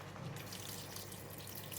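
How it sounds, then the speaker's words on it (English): Water pours steadily from a tap into a soup pot of luffa mee suah, a faint continuous splashing rush. "Now I'm going to add in water"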